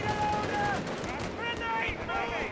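An MG-42 machine gun fires in a Company of Heroes 3 battle, rapid bursts that crackle continuously under a commentator's steady talk.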